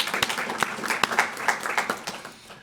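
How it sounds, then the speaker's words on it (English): Audience at an electric cooperative's annual meeting applauding, a scattered round of clapping with sharp individual claps that gradually fades away. "Give them a round of applause"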